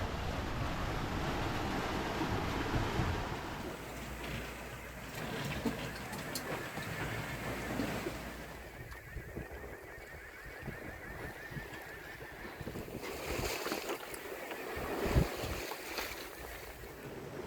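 Sailboat under mainsail at sea on a light-wind day, with steady wash of waves against the hull and soft wind rush throughout, moderately quiet and continuous.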